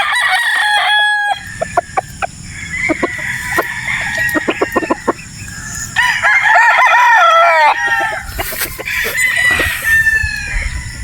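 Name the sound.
gamefowl roosters crowing and clucking, Sweater Boston breed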